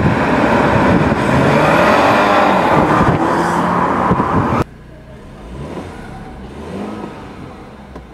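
A BMW 330e's petrol engine revving hard, a loud sustained roar that climbs through the revs before cutting off abruptly, leaving a quieter idle-like rumble afterward.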